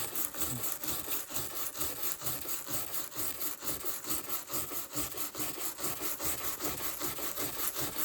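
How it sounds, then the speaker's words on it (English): A wire brush scrapes repeatedly across the wooden boards of an O scale 1860s-era boxcar kit, giving a steady, close, rasping rub in quick back-and-forth strokes with no pauses. "this wire brush, and I'm just gonna give a little scrape to these boards"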